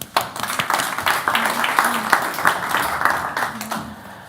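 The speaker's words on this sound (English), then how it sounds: "Let's give him a warm round of applause." Scattered hand clapping from an audience at a research conference as a guest is invited to the stage. The claps are uneven and fairly close, with a voice murmuring underneath.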